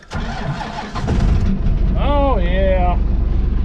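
Cummins 12-valve diesel in a crew cab truck cranks briefly and fires into a loud clattering idle close by, with a whining rise and fall partway through; someone speaks briefly over the start.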